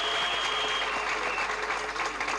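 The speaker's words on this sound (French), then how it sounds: "Je voudrais des applaudissements pour monsieur le conseiller" A television studio audience applauds a guest councillor, a steady wash of clapping at moderate distance with no talk over it.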